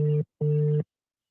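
Telephone tone on an unanswered call: two loud, clean electronic beeps, the first short and the second longer, separated by a brief gap and followed by silence.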